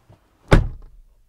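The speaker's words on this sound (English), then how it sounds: "Door open and close sound from the outside" A 2022 Kia Carnival minivan door shuts from outside with a single solid thunk, close and clear, after a faint click, fading quickly into silence.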